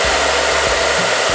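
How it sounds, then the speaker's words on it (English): Hand-held blow dryer set to cool, blasting air onto hair while styling a sleek high braided ponytail, a loud steady whoosh with slight motor pulsing. "I'm going to take my blow dryer and I'm going to put it on cool."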